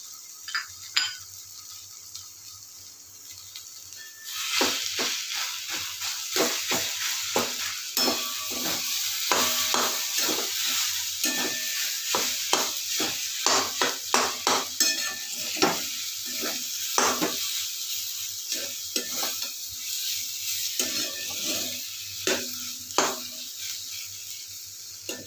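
Grated boiled potato frying in a pan with turmeric and salt, sizzling steadily while a spoon scrapes and stirs in a rapid run of clinks and scrapes after a quieter start.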